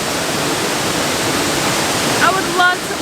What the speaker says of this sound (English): I would love to live near a waterfall like this. It just sounds so magical.